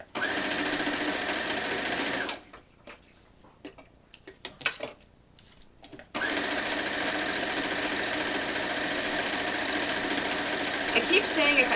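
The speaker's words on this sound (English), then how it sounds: "Now let me finish sewing" A sewing machine stitching rows of a T-shirt quilt runs in a loud steady whir, stops for a few seconds of scattered clicks and handling noises, then starts again and keeps running.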